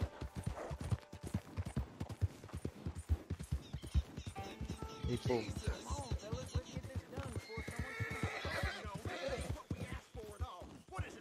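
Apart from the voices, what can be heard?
horse rearing and whinnying in the video game Red Dead Redemption 2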